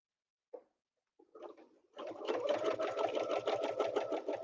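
A sewing machine quilts along a ruler, a few brief starts and hesitations giving way to a fast, steady mechanical stitching whir with a rapid needle rhythm, close and clear.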